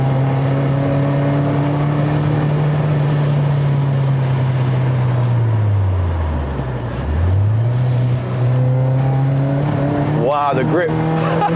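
A VW Golf mk2 with a 2.0 16V engine driven hard on a crisp morning, its engine droning loud and steady, dipping as it lifts off, then climbing through revs again.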